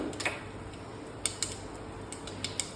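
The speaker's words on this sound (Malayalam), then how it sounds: "എണ്ണ ചൂടായി വന്നിട്ടുണ്ട് അതിലേക്ക് നമുക്ക് ആവശ്യത്തിന് വേണ്ട കടുക് ഇട്ട് കൊടുക്കാം" Mustard seeds crackle in hot oil, giving sparse, sharp little ticks and pops that come one at a time over a faint, steady background hiss.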